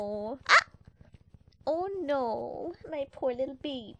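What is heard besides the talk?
dog barking in background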